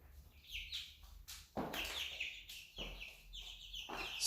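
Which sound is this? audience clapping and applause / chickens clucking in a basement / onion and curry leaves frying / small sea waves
chickens clucking in a basement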